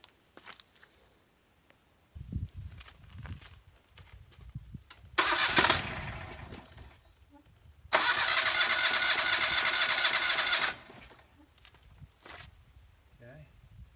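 A Yamaha EF12000DE generator engine cranks in two loud bursts, a short one and then a longer sustained run, each stopping abruptly. Footsteps and handling noise come before the cranking, and a voice speaks briefly.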